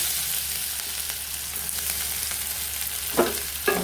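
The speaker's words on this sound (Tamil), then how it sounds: "அப்படியே இப்போ நம்ம நறுக்கி வச்ச வெங்காயத்தை அதோட சேர்த்துக்கலாம்." Chopped onions fry in ghee in a pan, a steady close sizzle with a couple of sharp spatter pops toward the end.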